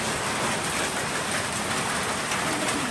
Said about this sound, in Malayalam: രാവിലെ തന്നെ മഴയാണ്.